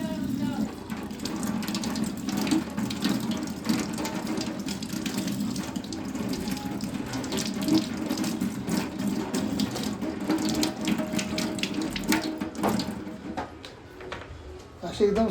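Tap water runs steadily into a sink while freshly caught crabs are washed in it, a continuous close splashing rush with someone talking over it throughout.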